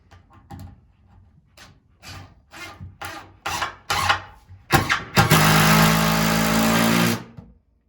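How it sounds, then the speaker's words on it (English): A power drill or driver runs in one steady sustained burst while driving screws into the wood of a raised attic storage platform. Scattered knocks and handling sounds come first, and the drilling is close and loud. "I'm going to go in and fill the rest of my screws in"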